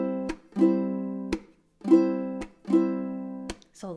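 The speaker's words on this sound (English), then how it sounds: "So I'm going to take my palm and I'm going to mute my strings" Strings are strummed in sustained chords, each cut off by a sharp percussive palm-muted tap, alternating in a slow strum-tap rhythm, close and clear.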